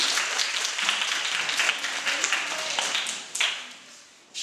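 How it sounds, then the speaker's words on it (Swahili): Schoolchildren in a classroom break into applause for a classmate's exam mark, a busy patter of many hands clapping that thins out toward the end, with some voices underneath. "Piga makofi."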